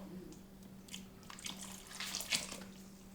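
Water poured from a tap over dry red beans in a cooking pot, a soft, steady splashing close by that builds toward the end, with a faint low hum underneath and no talk.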